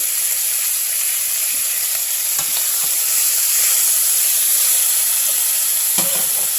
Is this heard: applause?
no